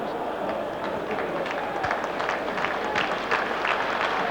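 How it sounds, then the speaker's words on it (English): A stadium crowd at an AC Milan versus Real Madrid football match gives steady, moderate applause as Ruud Gullit is substituted off, the broad clapping swelling slightly under a commentator's voice. "Sympathetic applause then for Ruud Hullet."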